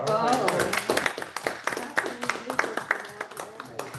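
Meeting attendees applaud a departing member at a wildfire community oversight committee meeting, a scattered round of hand claps that starts full and thins out, mixed with voices talking over it.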